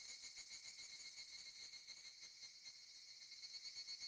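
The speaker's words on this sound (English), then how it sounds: "I hear the cicadas chirping." Cicadas drone in a visual novel scene on a hot summer evening, with a faint, continuous high-pitched shrill buzz that pulses evenly throughout with no other sounds.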